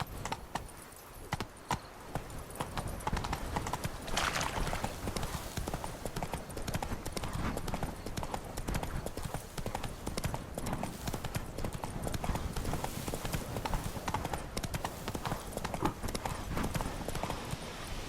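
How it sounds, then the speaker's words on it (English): Horse hooves clip-clop steadily in The Witcher 3 video game, a continuous brisk gallop rhythm at close range filling the clip, with a brief horse whinny and scattered game sounds mixed in. "Whoa there, Roach"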